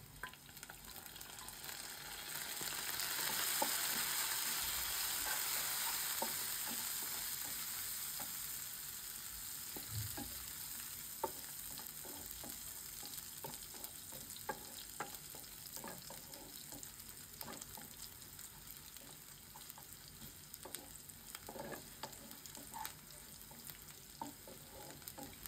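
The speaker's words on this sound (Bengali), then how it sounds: "পেঁয়াজটা ভেজে নিই।" Chopped onions fry in a pan for a pumpkin khichuri, giving a continuous close sizzle with crackling pops that swells early and then settles into a steady hiss, with no voices.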